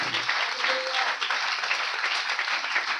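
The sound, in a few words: audience applause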